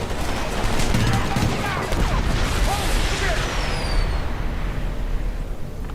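Gunfire in the war video game Homefront, a busy, sustained battle mix of rapid shots and crashes running through the whole stretch with speech-like game voices mixed in.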